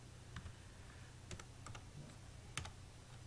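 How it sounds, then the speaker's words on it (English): Faint computer keyboard typing while numbers are entered into an Excel spreadsheet, a few scattered clicks and short bursts of keystrokes over a steady low hum. "Now I'm only going to type in 20 numbers"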